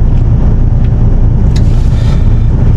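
A three-axle truck heading to a quarry rumbles with a loud, steady low engine drone close by, with faint rattles riding on top.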